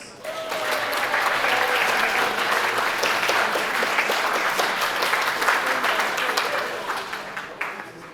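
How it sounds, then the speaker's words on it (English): A school audience at a Dragons' Den style student presentation event gives itself a round of applause, steady and dense clapping across the room, fading slightly near the end. "Give yourselves a round of applause."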